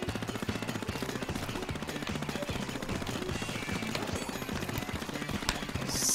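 Rapid, continuous automatic fire from the Airbrush MG weapon in Splatoon 2, a dense, loud rattling stream of shots with no speech over it.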